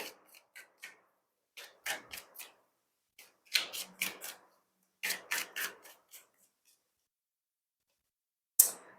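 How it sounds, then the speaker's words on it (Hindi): Tarot cards are drawn from a deck in short bursts of crisp flicks and snaps, grouped in quick clusters separated by silences, with one sharp click at the end. "मैं कुछ कार्ड्स जरूर लूंगी यहां से"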